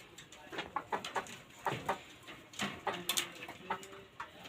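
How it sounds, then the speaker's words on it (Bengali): A red Sirazi pigeon coos softly nearby, repeated low throaty calls in uneven bursts, fairly faint, with some light ticking and background noise between them. "এটি একটি লাল সিরাজি, এটির ডিম বাচ্চা গ্যারান্টি আছে, রানিং কবুতর।"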